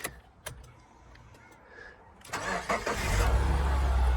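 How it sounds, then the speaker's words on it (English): A Subaru Forester's engine cranks and catches on a newly programmed key after a few quiet clicks, then settles into a close, steady idle. "How about we see if this key now works in the ignition?"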